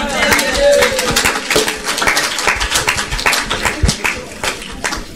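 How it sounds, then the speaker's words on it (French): Congregation applauding during a church sermon, a dense crackle of many hands clapping that stays loud and steady throughout, with some voices mixed into the din. "Est-ce qu'on peut applaudir pour le Seigneur?"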